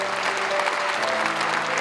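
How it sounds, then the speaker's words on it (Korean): Church congregation applauding introduced guests at a joint prayer service, a steady crowd clap with a faint sustained tone underneath and no voices on top. "박수로 이렇게 해주시기 바랍니다."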